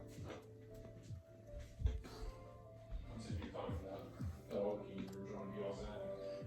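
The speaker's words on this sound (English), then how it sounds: "I have a yoga dog" A dog whimpers softly after a bedtime yoga session, with thin plaintive whines repeating under continuous nearby talk.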